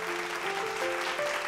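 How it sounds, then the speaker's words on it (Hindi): An audience claps for a contestant on a Bhojpuri TV talent show, a dense, steady patter of hands lasting the whole moment. "जोरदार तालियां हमनी के सफेद शर्मिली भौजी के लिए"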